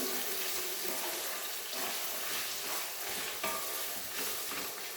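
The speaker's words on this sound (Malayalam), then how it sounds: "നന്നായിട്ടൊന്ന് ഇളക്കി റെഡിയാക്കി കൊടുക്കാം" Tuna pickle (chura achar) stirred in a pan, giving a continuous hissing, scraping sizzle that stays close and fairly loud throughout, with no voices.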